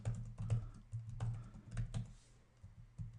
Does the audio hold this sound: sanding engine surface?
no